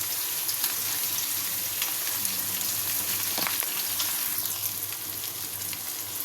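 Cumin seeds crackling in hot oil for a home-style dish, a dense, continuous sizzle with faint pops, close and fairly loud, with no talking.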